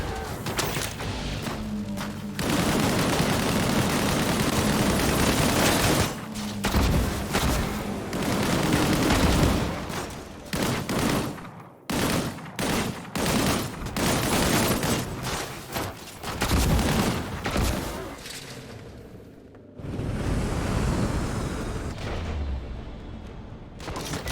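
Gunfire in the sci-fi shooter Disintegration, with sustained bursts of automatic fire, booms and impacts that come in loud waves broken by short pauses, over game ambience and no talk.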